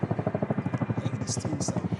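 A large helicopter passes close overhead, its rotor beating in a fast, steady chop that stays loud throughout with a whine above it.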